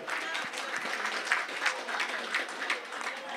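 An audience applauds at a cooking challenge stage event, with a steady, moderately faint patter of clapping lasting the whole stretch and a faint voice murmuring beneath it.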